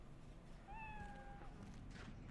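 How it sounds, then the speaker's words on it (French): A cat in the Cyberpunk 2077 video game gives one clear, drawn-out meow that slides slightly downward, close and fairly soft, over low background ambience with no talk. "Oh, on peut caresser un chat?"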